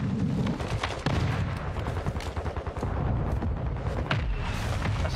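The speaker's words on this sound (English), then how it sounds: "Mortar strike on me, mortar strike on me." A mortar strike lands in a video game as a loud rumbling run of repeated blasts and rolling booms, heavy and sustained, with no clear speech.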